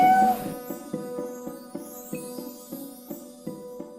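A domestic cat meows repeatedly, about every half second, in a steady rhythm. The calls are close and moderately loud over a faint background drone.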